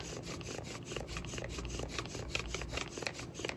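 A wooden spindle rubs back and forth in a friction fire drill outdoors in the desert, a faint, rapid, rhythmic scraping close by under light pressure.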